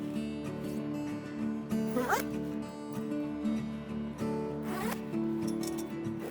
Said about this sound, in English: We got two zippers here.